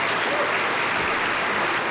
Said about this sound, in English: Can we just give the staff that's working tonight a round of applause for a great service?